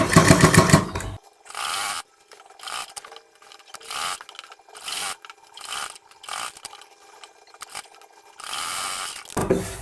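A sewing machine stitches a folded fabric strip on a suit sleeve, running in a string of short motor bursts separated by pauses, with longer, louder runs at the start and end.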